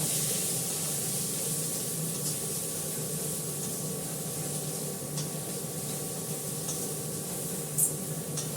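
Bottle gourd and fish fry in a hot pan with a steady, dense sizzle and hiss that runs evenly and close throughout, with no voices.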